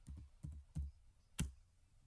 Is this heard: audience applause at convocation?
no